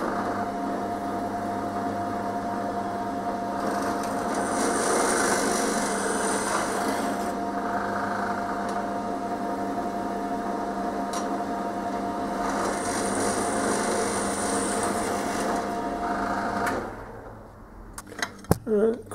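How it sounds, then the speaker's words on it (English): A power drill whines steadily for several seconds, pitch rising in two bursts as it bites through aluminium, then stops with a few clanks. "hold it while I drill through"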